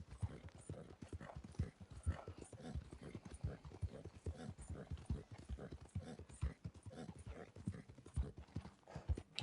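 A horse in the Red Dead Redemption 2 video game, steady clip-clopping hooves with low snorting grunts, faint and continuous with a voice talking over it at times.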